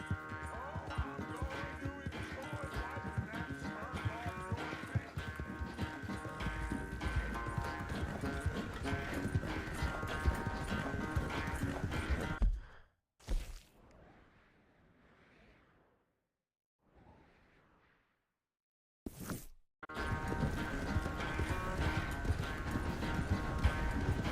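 Rhythmic clip-clop of horse hooves galloping over a busy Red Dead Redemption 2 game soundtrack, breaking off into a short near-silent pause before the galloping resumes.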